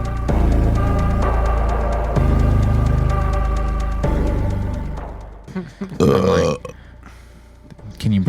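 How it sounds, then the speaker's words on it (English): A person lets out a long, loud, rumbling burp, followed by shorter breathy bursts and sounds near the end, close up. "Can you burp again for me, please?"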